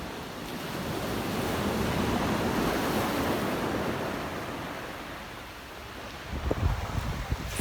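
Surf rolls steadily onto a beach, a broad continuous wash of breaking waves with some wind noise, swelling and easing, then a few sharper splashes near the end; no voices.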